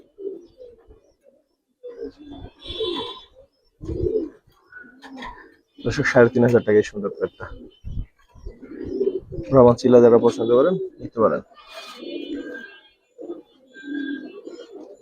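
Large Giribaz pigeons coo close by in short bursts between stretches of someone talking over them.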